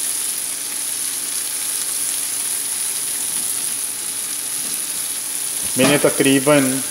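Onions for poha fry in a pan with a steady, even sizzle. A person starts talking briefly near the end.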